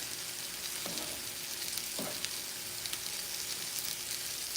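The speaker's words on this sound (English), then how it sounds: "the cabbage is sauteing, it's breaking down" Cabbage sautéing in a pan gives a steady, close sizzle with a soft hiss, broken by a couple of brief scraping stirs, with no voices over it.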